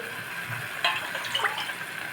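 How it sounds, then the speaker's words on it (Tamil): Water pours into a cooking pot for tomato rice, giving a short, steady splashing gush at close range with a few brighter splashes, and no voices. "தண்ணி சேர்த்துடலாம்"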